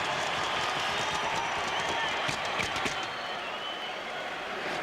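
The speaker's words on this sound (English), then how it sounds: "now the crowd is back into their Reggie chant, which we've heard so many times in this building" A hockey arena crowd at a 1991 NHL Stanley Cup playoff game between Pittsburgh and Boston chants a player's name, a dense, continuous roar of many voices with a few claps and thumps, loud and steady throughout.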